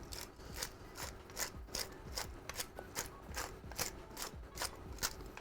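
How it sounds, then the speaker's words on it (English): A pepper grinder is turned in quick rhythmic cranks, giving a steady stream of faint, close gritty crunching and ratcheting, alone. "Go fill up your pepper grinder."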